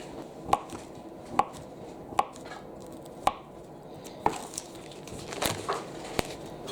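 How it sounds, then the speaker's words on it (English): Butter cut into flour for Irish soda bread in a home kitchen: a series of sharp, evenly spaced knocks of a utensil against a bowl or board, close and clear, with softer scraping toward the end. "we just need to make sure that the butter is cut in"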